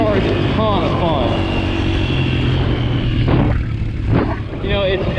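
A 2022 Yamaha TTR 125 LE dirt bike engine runs loudly and steadily with rising and falling revs while riding, under wind buffeting and a voice talking over it.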